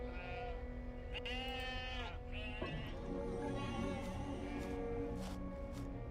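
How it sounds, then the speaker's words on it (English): Sheep bleating in the video game Huldufólk: several wavering bleats from a flock, overlapping at a moderate distance over a steady ambient backdrop, with no talking. "A lot of cool sheep here."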